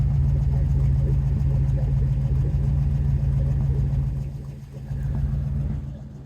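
A 1955 Dodge Custom Royal with a HEMI V8 idles with a deep, steady low rumble close by, dipping briefly then picking back up near the end.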